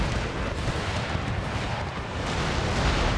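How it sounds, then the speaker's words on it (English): Artillery fire in Empire: Total War, Prussia campaign with Darthmod, a dense rumbling roar of distant cannon booms merging into a continuous low, loud battle din without speech. "My artillery might be actually targeting them already"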